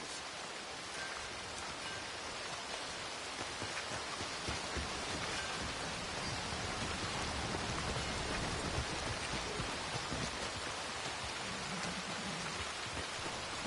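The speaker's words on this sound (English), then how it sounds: "Do without this rain. Makes you appreciate the sunny days." Steady, dense rainfall in the video game Red Dead Redemption 2, a continuous close wash of drops hitting surfaces with a faint low rumble underneath, heard alone without voices.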